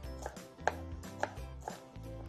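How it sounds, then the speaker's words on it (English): Knife thinly slicing green onions on a cutting board, a few crisp chopping taps in an uneven rhythm, close and fairly quiet, with no talking. "Now I'm going to thinly slice some green onions"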